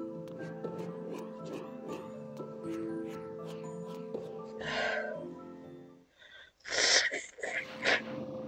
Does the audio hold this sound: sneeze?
yes